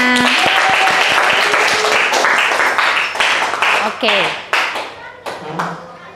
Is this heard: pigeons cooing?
no